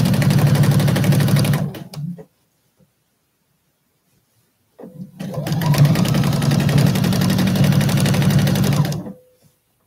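A sewing machine stitches down quilt binding with a loud, steady rapid whir close by, running about two seconds, pausing in near silence, then running again for around four seconds before stopping.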